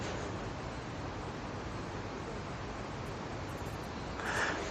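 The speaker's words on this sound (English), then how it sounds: "You can hear a bit of the wind now." Steady broadband rushing of wind at a carp fishing lake, a soft continuous roar filling the clip with a slight gust swelling near the end; no voices.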